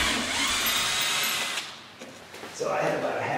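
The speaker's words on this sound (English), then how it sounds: "is now drilling the holes so as to mount the board to the inside" A power drill boring holes into a 2x6 mounting board inside an aquarium stand, a loud whirring whine that drops off midway and then resumes, with no talking.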